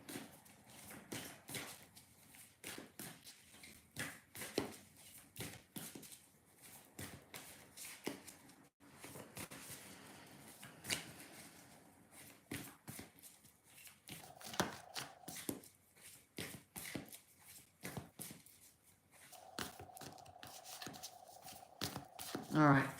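Repeated riffling and shuffling of cards in quick bursts, with a person talking intermittently throughout.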